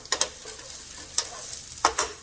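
Mango strips being stirred in a hot pan, a utensil scraping in brief clustered strokes over a soft steady sizzle, close and fairly quiet with no voices.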